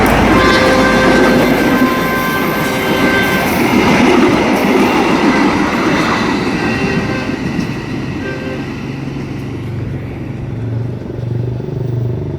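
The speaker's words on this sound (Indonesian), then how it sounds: "ada kereta api yang melintas pada senja ini menuju ke Kota Pariaman" Train on the line to Pariaman passing close by at dusk near the Padang–Bukittinggi road in Nagari Buayan, a loud, sustained rumble and clatter of wagons that slowly fades toward the end.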